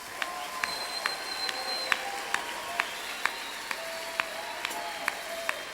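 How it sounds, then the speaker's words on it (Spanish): A church congregation at a prayer-house service in Bolivia claps along, the sharp claps landing in a fairly steady rhythm over a continuous background of crowd noise. "vamos a dar un aplauso a nuestro Dios con todas nuestras ganas"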